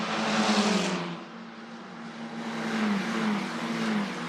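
Italian F4 (Formula 4) single-seaters at Imola pass one after another, engines rising and falling as each car goes by at a moderate distance, with no talk.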